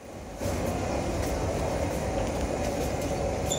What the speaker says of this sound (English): I only did 5 stations on the subway, or on the tube as they call it here